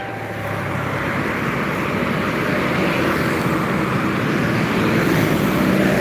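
Trucks passing on a roadway, a continuous loud, steady rumble of heavy engines and tire noise close by, with no talking.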